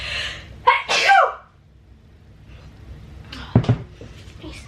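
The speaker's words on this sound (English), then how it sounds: "You sneeze so hard you're a little dizzy." Two loud, forceful human sneezes in quick succession during a casual small-business work vlog, then a quieter pause and a sharp knock-like bump near the end.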